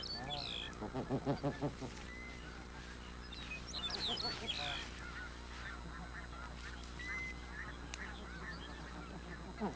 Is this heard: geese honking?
yes